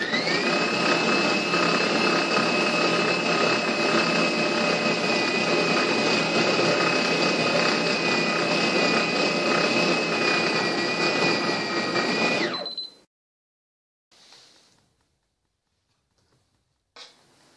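Food processor chopping meat for a meatloaf, a loud steady high-pitched motor whine running for about twelve seconds before stopping abruptly, followed by faint clinks.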